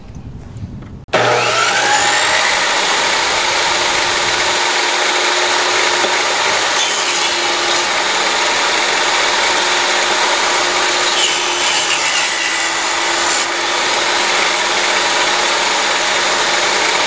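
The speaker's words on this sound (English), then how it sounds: "Now we set up and come in and cut back that fillet." A power tool cutting back the fillet on a wooden window check rail, starting abruptly and running as a loud, steady, close whine with rough cutting noise throughout.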